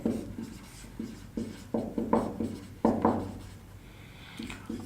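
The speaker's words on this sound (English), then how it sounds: "So here I write algorithm." A pen or marker writes by hand on a surface in short, scratchy strokes, with bursts of rubbing and pauses between them, close and fairly faint.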